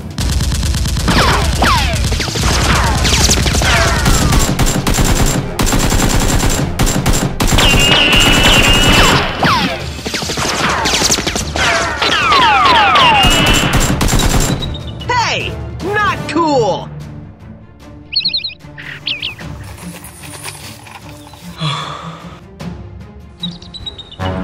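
Nerf guns fire in rapid, dense volleys for about fifteen seconds, a loud continuous clatter with shouting and chirpy effects mixed in. It then thins out to scattered shots and noises.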